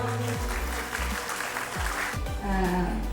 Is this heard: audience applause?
yes